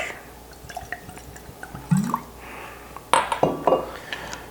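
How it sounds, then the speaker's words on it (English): Whiskey is poured into a glass, giving brief clinks and a short liquid trickle in a quiet room, followed by a brighter splash and clink. "let's go ahead and pour this out"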